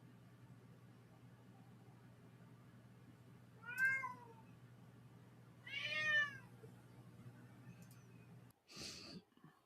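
A cat meows twice at moderate distance over a steady low hum, each call a rising-falling wail a couple of seconds apart, followed by a short breathy snort.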